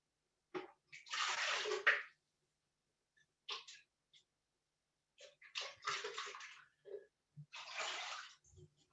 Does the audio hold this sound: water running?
yes